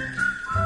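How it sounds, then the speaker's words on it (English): A melodic whistled tune from a cheerful work song, sustained and clear with a few pitch changes, carried alone over soft low accompaniment. "tune up and start to whistle while you work"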